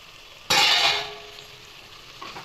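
Mutton for biryani drops into a hot pot and is stirred, giving a sudden loud sizzle that fades over about a second into a quieter fry, with no talking.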